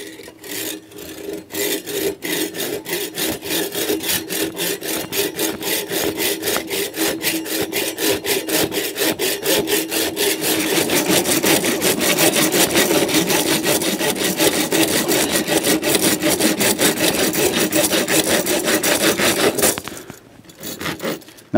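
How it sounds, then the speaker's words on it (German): A handsaw cuts through a roe deer skull in fast, even back-and-forth strokes, close and loud, building slightly in intensity and stopping just before the end. "Und beginne jetzt mit dem Sägen an sich."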